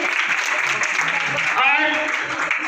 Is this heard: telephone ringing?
no